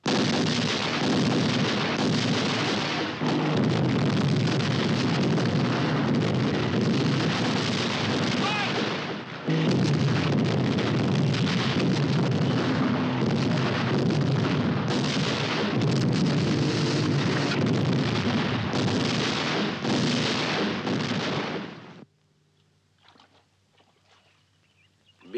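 A WWII artillery battery fires in a long, dense barrage of booming blasts at the Battle of El Alamein in North Africa. The heavy rumble is sustained for about twenty seconds, dips briefly midway, then cuts off to near silence.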